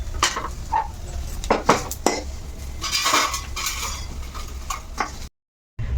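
Fried ginger is lifted out of a pan onto a plate for a coriander-ginger chutney. Close metal spoon scrapes and clinks against cookware come in quick bursts, then a brief silence at the end.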